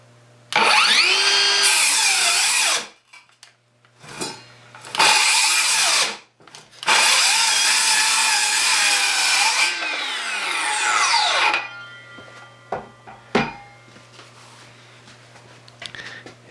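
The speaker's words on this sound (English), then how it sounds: "I could hear the motor start to bog down" A Ryobi brushless circular saw cuts through wood near its stalling speed, loud and close, in three long bursts with the motor pitch sagging under load, separated by short pauses and followed by fading spin-down and a few clunks.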